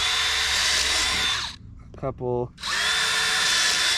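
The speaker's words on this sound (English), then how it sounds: "we also want to drill some holes in the bottom of our elbow" A power drill bores holes into the bottom of a downspout elbow, whining loudly and steadily, pausing while a person speaks briefly, then whirring up again.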